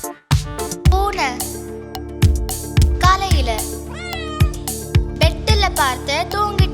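A singing voice imitates a cat's meow several times over a bouncy children's song with music, each meow a rising-then-falling cry, clear and close; the imitation sits among sung words.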